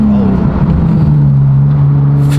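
Nissan 370Z Nismo driving at steady speed, a loud continuous close engine drone from inside the cabin with a slight pitch shift as the gear changes down, no voices.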